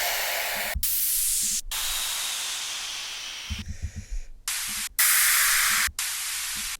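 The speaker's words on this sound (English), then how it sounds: "Let's add some effects, maybe some white noise," Bursts of white noise used as an effect in a music production: loud, bright hiss in sustained swells and sweeps, cut by abrupt gaps, with faint low rhythmic thumps underneath.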